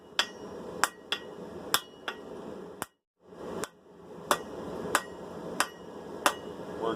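Hammer blows ring out on hot steel over an anvil while tongs are forged, sharp metallic strikes landing roughly every second in a steady rhythm, with a brief pause partway through.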